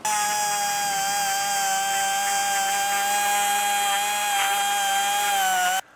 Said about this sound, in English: I just finished up with the sandpaper, kind of just really fine tuning the ports that I've been working on